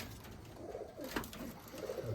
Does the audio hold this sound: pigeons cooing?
yes